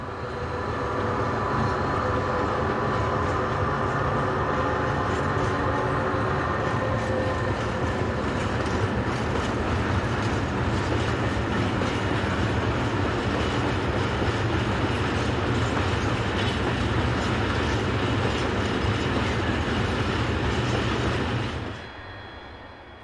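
A long westbound freight train of tank wagons, hauled by a pair of tri-voltage class 36000 electric locomotives in France, rolls past steadily with rhythmic wheel clatter and a sustained metallic rumble, close by, ending abruptly as the last wagons clear.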